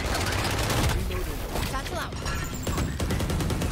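Valorant gunfire during a competitive match on Bind, rapid bursts and rattling shots layered over game effects, loud and near, with players talking over the shooting.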